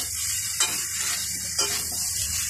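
Potatoes and spices frying in a pan for a lau ghonto with jackfruit seeds, prawns and fish head, a steady bright sizzle with two distinct stirring scrapes, close and without speech.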